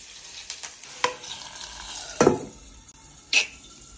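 Onions being stirred and fried in a home kitchen pan, with a faint sizzle underneath and a few sharp scraping and clinking spatula strokes standing out at irregular moments.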